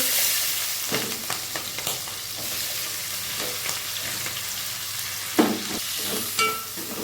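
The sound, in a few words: frying onions with cumin, mustard seeds and fenugreek in oil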